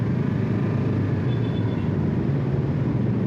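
Steady engine rumble of a motorbike on the road, constant and close, with low traffic noise throughout and no talking.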